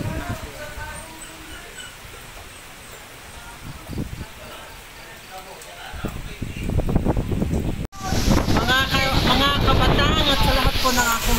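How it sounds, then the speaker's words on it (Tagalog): Strong typhoon wind in San Luis, Batangas, a loud, roaring rush of gusts with buffeting on the microphone that grows heavier midway, under someone talking. "Papakita ko sa inyo kung ang malakas na hangin na nararanasan namin ngayon dito sa San Luis, Batangas"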